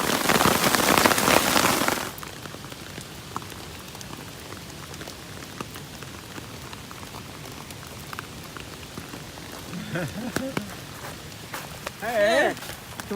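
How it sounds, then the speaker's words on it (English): Hail mixed with rain drums hard and loud on a tarp overhead at first, then settles into a steady patter, with brief voices and exclamations breaking in later. "It's hail and rain."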